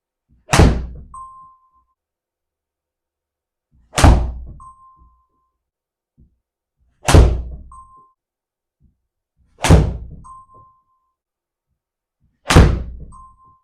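Five golf shots are struck during a Wilson club fitting session, about three seconds apart. Each is a crisp, loud impact followed by a brief ringing tone, with silence between shots.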